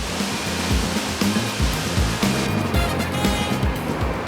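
Gushing waterfall cascades in Croatia roar in a dense, continuous rush of water, loud and close, with no voices.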